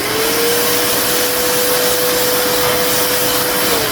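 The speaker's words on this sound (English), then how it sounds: "Gotta keep vacuuming off the metal shavings" A vacuum cleaner sucks up metal shavings with a loud, steady, close roar and a sustained whine that holds, then dips slightly at the end.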